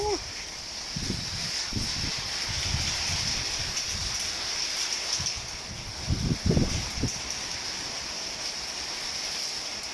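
Heavy rain pours down steadily inside a Thai village, a dense continuous hiss with wind gusting through, and a few soft thumps and faint voices in places.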